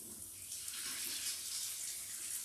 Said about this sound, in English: I will get my hands a little clean.